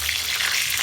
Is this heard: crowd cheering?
no